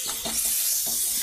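Chopped tomatoes sautéing in a pan for a papaya and fish curry, a close, steady hiss of sizzling with a few soft scraping stirs.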